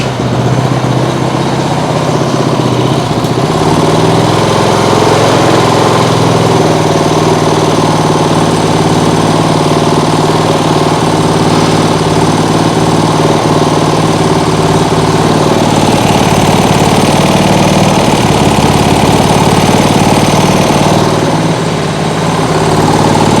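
A lawn mower engine mounted as a boat outboard runs steadily at full throttle on its governor, a loud, unbroken mechanical drone with a buzzing exhaust note, close to the microphone.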